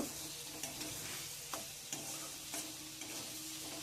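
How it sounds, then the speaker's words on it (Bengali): Pointed gourd (potol) with spices, green chillies and a little sugar sautéing in a pan, a steady close sizzle with occasional scraping stirs of the spatula, no voices. "আর একটু মশলার সাথে পটলগুলোকে একটু কষিয়ে নিলাম"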